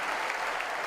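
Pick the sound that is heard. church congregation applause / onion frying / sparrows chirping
church congregation applause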